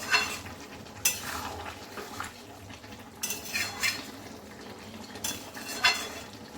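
Fried prawns are stirred in a pan for a Bengali raw jackfruit and prawn curry, with three sharp spatula scrapes and clinks over a low, faint sizzle.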